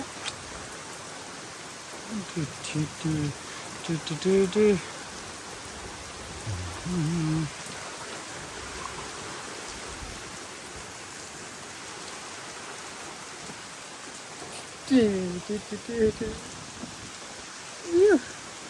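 Steady rain pours and patters on surfaces on a farm field with a gusty wash of wind, while voices speak intermittently in the background.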